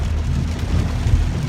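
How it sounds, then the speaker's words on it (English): Heavy rain pours over a car while driving, a dense, steady roaring wash of drumming water with low road rumble underneath and no voices. "Raining so hard."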